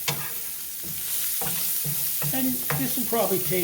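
Pot pie filling sautés in a pan with a sizzle as a spoon stirs and scrapes in uneven strokes, close, while a person talks over it.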